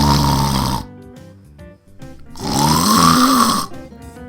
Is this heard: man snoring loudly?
yes